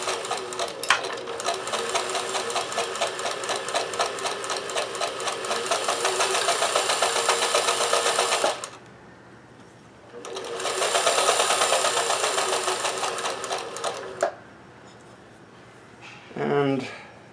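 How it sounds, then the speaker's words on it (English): A 1914 Kenmore 158 sewing machine chain-stitches with a loud, rapid mechanical whir as thread pulls past the hook. A long steady run breaks briefly, then a second run starts and ends with a short knock. "You will hear more noise now from the thread pulling past the hook."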